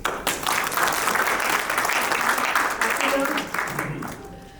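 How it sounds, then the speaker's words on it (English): Audience applause fills a hall at a morning health and well-being awareness event, dense steady clapping holding for about four seconds before tapering off, with no talk over it. "I should say a big round of applause for our dear,"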